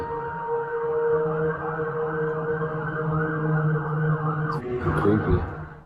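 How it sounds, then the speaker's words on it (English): Distant sirens wail in long, rising and falling tones that hold steadily for several seconds before a louder, rougher burst near the end. "That one sounded like sirens."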